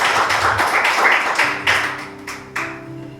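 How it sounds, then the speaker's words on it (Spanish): Church congregation applauding during a Spanish-language sermon, irregular clapping that starts loud and dense, then thins and fades while sustained organ or keyboard tones enter underneath. "Denle un aplauso a Dios."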